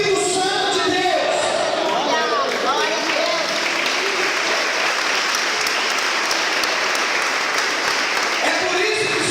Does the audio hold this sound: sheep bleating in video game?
no